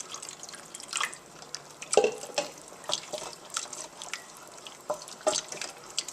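Milk pours into a pan of baby macaroni cheese with faint, irregular splashes and drips, soft and close amid light background rustle.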